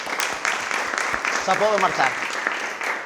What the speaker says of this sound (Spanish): y le damos un aplauso muy fuerte.